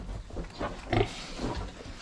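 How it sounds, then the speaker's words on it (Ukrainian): A young sow in heat grunts in a few short, low bursts, moderately close, with one louder grunt near the middle amid quiet farmyard background. "Ця льошка наша загуляла, вже гуде."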